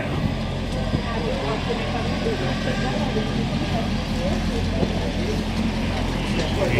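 A Chevrolet Corvette's engine burbles low and steady as the car passes along a city street in Verdun, Montreal, with traffic rumble around it and a voice speaking over it.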